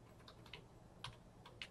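Computer keyboard typing while entering a web address, a quiet run of about half a dozen light, separate key clicks spaced unevenly, with no voices.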